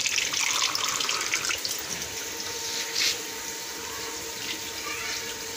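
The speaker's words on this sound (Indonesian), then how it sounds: "Nah, ini airnya keluar teman." Filtered water flows out of a homemade water filter built from simple materials: a loud, steady gush and splash that keeps running throughout, with no voices.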